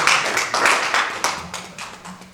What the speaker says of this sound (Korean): 우리 박수를 드립니다.